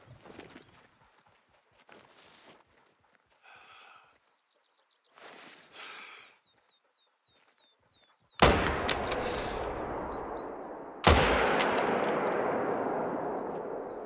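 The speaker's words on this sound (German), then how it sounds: "Weiß nicht, warum der erste Schuss daneben ging" Two loud rifle shots from the hunting video game theHunter: Call of the Wild, a few seconds apart. Each one cracks sharply and trails off in a long echo, following quieter scattered sounds and brief talk.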